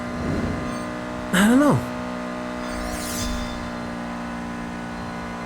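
Racing car engine in the mobile street-racing game Need for Speed No Limits, droning steadily through the clip with one brief louder rising rev burst and a faint tire squeal, while someone talks over it.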